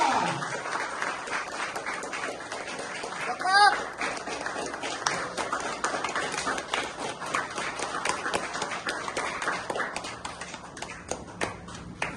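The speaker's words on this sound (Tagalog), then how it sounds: "palakpak para kay Coach Rich" An audience applauds for Coach Rich at a seminar, a sustained crowd of clapping hands with a brief shout partway through and energetic cheering throughout.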